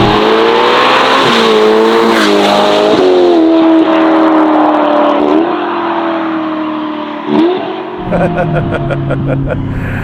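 A 704 hp Novitec-tuned Ferrari Roma Spider engine revs hard through rising and falling pitches, loud and close, with a brief dip and some crackling toward the end.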